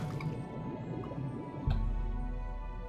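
Muffled underwater ambience from the video game Oblivion: soft bubbling drips and squishy liquid sounds, followed by a deeper low rumble as the swimming continues.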